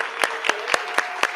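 A few sparse, evenly spaced claps at a school board trustees' meeting, five sharp hand strikes in a slow steady rhythm over quiet room tone, with no crowd swell.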